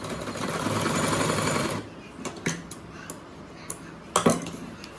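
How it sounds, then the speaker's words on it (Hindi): A sewing machine stitches a trouser belt and pocket, running in a fast close whir for under two seconds, then stopping, followed by scattered clicks and knocks of handling the fabric. "यहाँ पे हमें सिलाई कोने से इसकी सिलाई लगा के लानी दोनों की"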